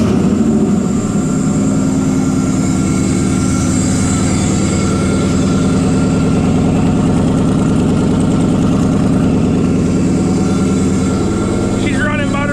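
An old International truck engine, fitted with a Holley setup and a boost controller, idles steadily and loudly up close with an even, low mechanical rumble, then briefly shows a light rattle near the end.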